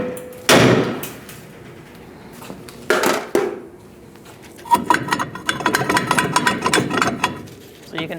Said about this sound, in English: If you're going to hit the drum with a sledgehammer, you need to put your lug nuts on